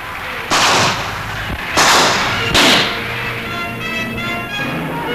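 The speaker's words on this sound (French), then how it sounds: "Soudain, des coups de feu, c'était l'attentat." Three sharp, loud gunshots ring out about a second apart, each leaving a ringing tail, followed by a lingering hum, in French archive newsreel audio of the 1963 Kennedy assassination.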